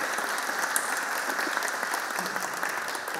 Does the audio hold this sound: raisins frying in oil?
no